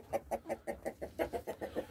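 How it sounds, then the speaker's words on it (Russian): Hens sitting in a farmyard coop give a run of soft, evenly paced clucks, about a dozen in two seconds, close and fairly quiet with no talking. "Вот, курочки сидят."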